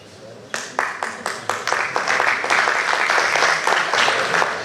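An audience at a teachers' conference begins with a few separate claps that quickly swell into full, sustained applause, loud and close.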